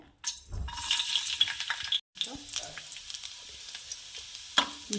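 Chopped garlic hitting hot oil in a pan while a poha and vegetable Manchurian dish is prepared, giving a bright, steady sizzle that starts, drops out briefly, then crackles on with small pops and scrapes.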